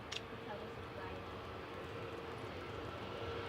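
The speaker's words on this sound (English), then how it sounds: "Max 8 departing here for Ryanair, heading over to Alicante." Ryanair Boeing 737 Max 8 departing Manchester Airport, a distant, fairly quiet steady jet rumble that stays even through the moment, under light background noise.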